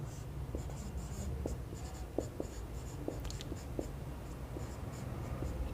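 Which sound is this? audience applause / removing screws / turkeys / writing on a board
writing on a board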